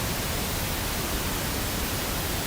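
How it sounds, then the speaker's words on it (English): Pink noise from a pink noise generator plays as a steady, loud, even hiss with no variation or pauses, a broad rushing sound like a waterfall. "once you have your pink noise generator or your pink noise file"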